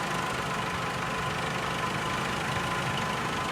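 A Chrysler PT Cruiser engine idles steadily with a pending cylinder misfire, a continuous broadband hum with a faint uneven knock and no pauses, heard up close throughout.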